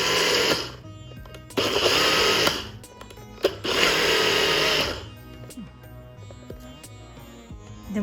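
A mixer grinder pulses cashews into powder, running in three loud whirring bursts of about a second or more each with short pauses between, then falling quiet with faint clatter.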